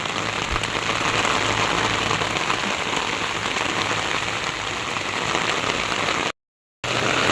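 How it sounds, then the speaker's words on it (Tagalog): Steady heavy rainfall drums on surfaces in a thick, constant hiss, cutting off abruptly near the end before resuming. "Malakas-lakas din po yung ulan."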